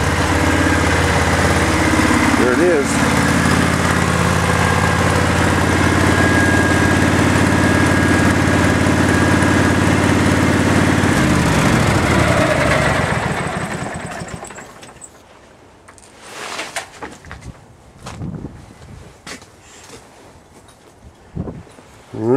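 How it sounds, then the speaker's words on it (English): A 1990 welding machine engine cold-starting in Alaska idles loudly and steadily, then winds down and stops near the end, leaving near-quiet with scattered small knocks and rustles. "my little 1990 welding machine will be revving down a little bit"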